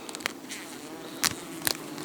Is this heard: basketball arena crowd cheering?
no